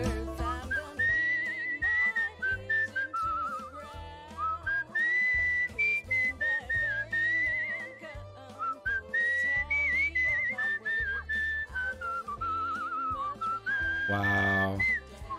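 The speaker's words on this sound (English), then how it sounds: "That'll be the whistle." A melodic whistled tune from the game Where the Water Tastes like Wine rides over steady backing music, with held and wavering notes running continuously and clearly up front.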